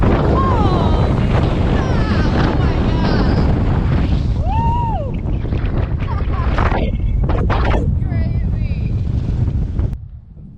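Strong wind at Gilbert Ray Campground in Tucson Mountain Park roars and buffets the microphone in a steady, loud rush that drops away sharply at the end, with faint voices underneath.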